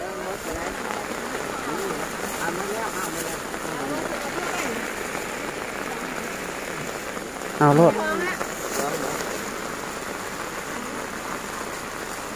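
Steady, dense rain pours over an outdoor market stall area, a continuous broadband hiss of drops on surfaces throughout, with a person talking over it and a brief louder burst near the middle.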